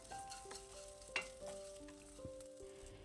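Onions with a pinch of asafoetida sizzle quietly in a hot, heavy kadai after the gas is turned off, a faint, steady hiss with one sharp stirring clink, set against soft sustained background tones.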